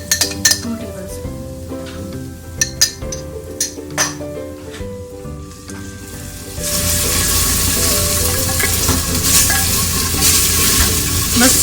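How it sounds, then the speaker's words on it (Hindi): Onions with garlic ginger paste are fried in a pan, with a spoon stirring and clinking against the metal. A sudden loud, steady sizzle then takes over, and a voice talks intermittently. "बस कुछ सेकंड इसको अपने फ्राई करना है"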